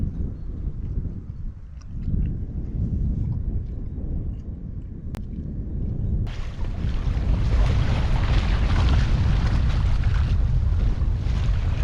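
Strong wind buffets the microphone on the seashore at Helsingborg, a constant roaring rumble that grows louder and fuller about halfway through, with surf and sea noise beneath it and no voices.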